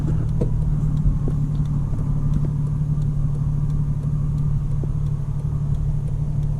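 Engine of a Nissan Skyline R34 GT turbo conversion, heard from the car driving on a main road: a steady, loud, low rumble with little change in pitch.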